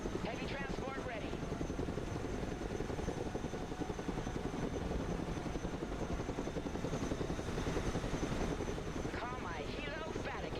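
A heavy transport helicopter in the video game Broken Arrow thuds with a steady, dense rotor chop throughout, with game radio chatter and voices faintly layered over it.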